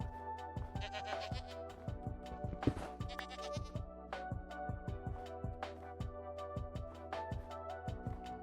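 A goat in the video game Minecraft bleats several times in drawn-out nasal cries over a steady, rhythmic game background of soft thumps and tones.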